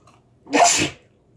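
A single sharp sneeze bursts out close by, loud and brief, with quiet before and after.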